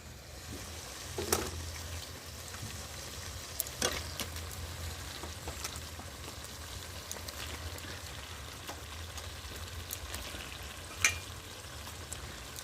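Chicken pieces sizzle and fry in spiced masala for chicken kosha, a steady crackle with a few louder stirring clatters, no voices.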